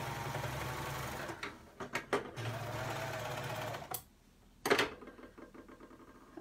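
A serger sewing machine stitches fabric in a two-thread narrow flatlock setup, running in a steady close whir for several seconds, with brief stops, clicks and a short restart near the end.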